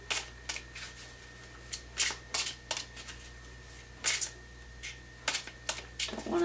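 A deck of tarot cards shuffled by hand at close range, heard as short papery riffles and flicks in irregular bursts with quiet gaps between, no voices.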